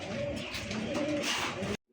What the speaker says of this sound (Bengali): সিঙ্গেল চুইঠাল দেখার মতো অনেক সুন্দর একটা কবুতর সিলভার দম